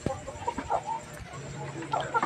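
Rhode Island Red chickens give a brief burst of soft clucks close by, with faint background noise.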